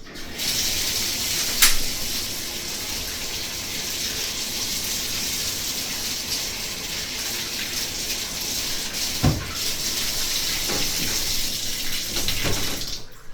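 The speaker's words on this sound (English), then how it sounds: "we're gonna just go ahead and wash this Glock and get a bunch of water all over it" Water runs steadily from a tap over a Glock pistol in a bathtub, a continuous broad splashing rush lasting throughout with a few brief louder spatters, fairly close and with no talking.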